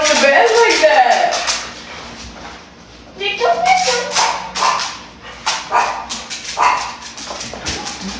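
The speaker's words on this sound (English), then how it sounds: "Oh, Bubby knows what time it is. It's pup cup time, puppy cup time." A pet dog whimpers and yips on a bed in a home, with short high cries coming in bursts under a woman's close, animated talk.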